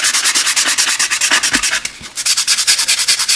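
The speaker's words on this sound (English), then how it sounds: "sandpaper" Sandpaper is rubbed over a newspaper collage background in quick, even back-and-forth strokes, close and loud, with a short pause midway and no talking.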